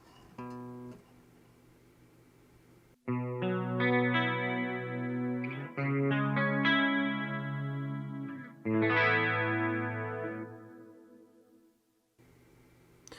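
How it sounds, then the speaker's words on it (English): Clean electric guitar through a Line 6 Helix with hall reverb, strummed chords and picked notes ringing out in a few loud phrases, each tail washing away into a long, spacious decay with no talking. "I generally like hall reverbs."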